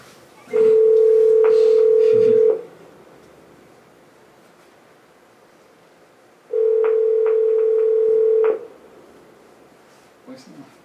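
A telephone call rings out before reaching voicemail: two loud, steady ringback tones about two seconds each, separated by a roughly four-second pause, with a faint click afterward.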